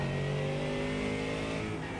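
GT3 race car engine in iRacing revving steadily with a rich, buzzing tone and strong harmonics, loud and continuous throughout with no voices over it.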